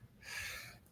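A single faint sneeze, a short breathy burst of hissing air about half a second long, quiet and alone with a soft intake just before it.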